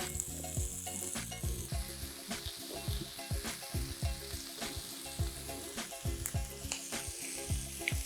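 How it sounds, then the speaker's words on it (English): Carrots sizzling in a hot pan while being stirred, with a continuous fry hiss and repeated close scraping strokes and no voices. "Keep stirring until our carrot is cooked through"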